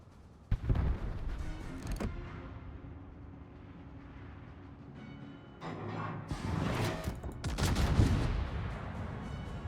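Heavy naval gunfire from the battleship USS Georgia in World of Warships, with a sharp opening blast followed by booming salvos and rumbling shell impacts, loud and layered, swelling into a dense barrage near the end.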